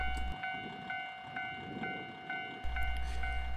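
A train stopped at Mizuho Station on the Soya Main Line in Hokkaido, Japan, idles just past a level crossing with a steady electric hum and regular faint beeps or chimes repeating about once a second, rumble dropping briefly then returning.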